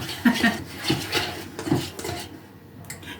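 Butter is rubbed and creamed against the sides of a bowl with a utensil for a cookie dough, giving irregular scraping knocks that repeat several times, close and moderately loud.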